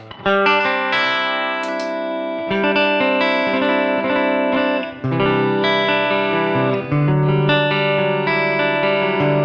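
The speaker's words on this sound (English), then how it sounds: "I've got a reverb going. Spring reverb, that's in between the amp and the cab." Clean electric guitar chords and single notes through a 112 Deluxe cab and 110 Princeton cab ring out with a wet, splashy spring reverb and a wavering tremolo pulse, playing continuously and loud with no voices.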